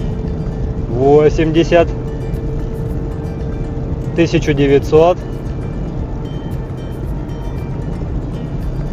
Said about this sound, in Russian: Слышите, как машинка просто стелится с новыми сайлентблоками, с новыми задними амортизаторами.